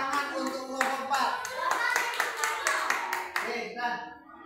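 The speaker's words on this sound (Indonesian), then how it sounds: "Tepuk tangan untuk kelompok 1." A class of schoolchildren claps for a group after its presentation, a brisk scattered patter of small hands with children's voices chattering over it, fairly close and moderately loud.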